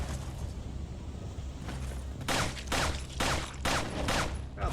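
Rapid bursts of gunfire in the Resident Evil 4 remake on PS5, several loud volleys crackling in quick succession near the end, over a low ambient game backdrop.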